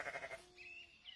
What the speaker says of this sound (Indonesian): Terdengar teriakan domba dari arah yang sangat jauh.